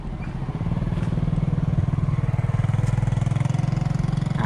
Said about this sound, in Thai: เอารถอะไรมาพี ่เอารถมอไซค์